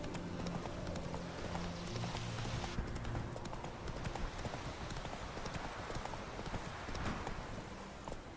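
Horse hooves clip-clop at a gallop in The Witcher 3 video game, a quick continuous drumming of hoofbeats that stays close and even, quiet overall, with no talking.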